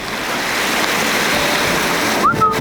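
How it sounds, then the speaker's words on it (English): A waterfall in the Icelandic mountains roars in a steady, broad, continuous rush, loud and close, with a brief high whistle-like sound near the end. "So we finally found a waterfall where we can go up to."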